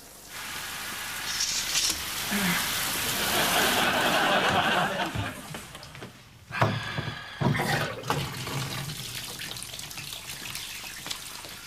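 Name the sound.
bath being run with water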